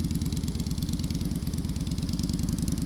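A motorcycle engine runs steadily at a low, even idle with a fast regular pulse, close by and moderately quiet, with no voices over it.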